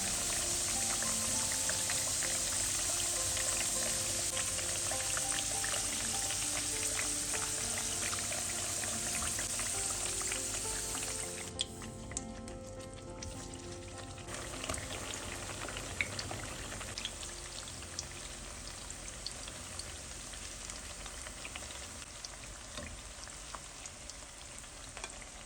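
Potato slices and eggplant fry in hot oil in a pan, a steady dense crackling sizzle that runs continuously, loud and close, easing slightly partway through with no voices.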